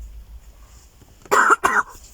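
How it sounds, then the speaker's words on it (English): Two harsh coughs in quick succession break a quiet pause, loud and close. "I keep having mass coughing fits very randomly"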